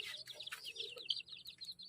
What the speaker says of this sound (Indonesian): Wow, ada ayam teman-teman